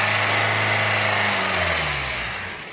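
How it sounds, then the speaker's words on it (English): A car engine is held at elevated RPM, around 2,000, during a GDI valve cleaning service, giving a loud steady drone that eases and drops in pitch near the end; no talk over it. "Keep up the RPM."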